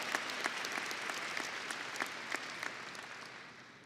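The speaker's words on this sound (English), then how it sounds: "That's worth a clap." Faint, distant applause from a ceremony audience, with individual claps standing out, fading slightly toward the end.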